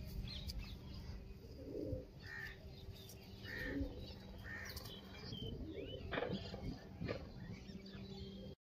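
Old female pigeon kept by a Punjabi fancier, giving soft low cooing calls in a few separate bursts, with faint chirps of other birds and a steady background hum around them.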